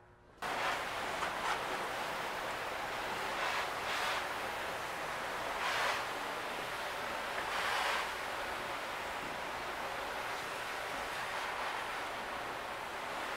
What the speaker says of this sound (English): we can go ahead and we can rinse this down with water